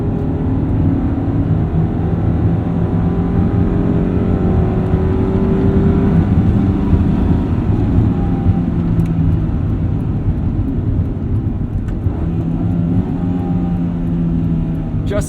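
A 1995 EJ Honda Civic Si engine drones loudly and steadily from inside the car while driving, its tone shifting slightly through a throttle blip, with no break in the sound.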